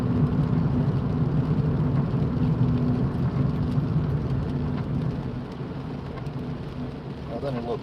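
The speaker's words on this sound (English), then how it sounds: "So now we're moving again, it's raining again." Rain while a car drives at night in the UK on the way to Wigan, heard from inside: a steady, dense hiss of rain and road noise that eases slightly toward the end.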